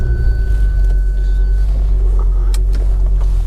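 A 570-horsepower Ford Focus ST idling or running close by, producing a deep, loud, steady engine rumble with a faint whine above it and a few small clicks, no talking heard.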